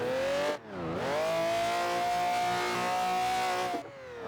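A Toyota FRS driven in the Assetto Corsa racing game: a loud, close engine drone rises, drops sharply at a gear shift, then climbs and holds a steady high rev before easing off near the end.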